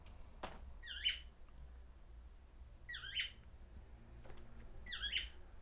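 A pet bird gives three short, sharp squawking calls spaced about two seconds apart, moderately loud over a quiet room.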